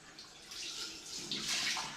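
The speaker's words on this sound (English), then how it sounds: "when you finish that, rinse off with cold water" Water runs steadily as someone rinses off with cold water, a soft continuous splashing hiss, faint and even with no talk over it.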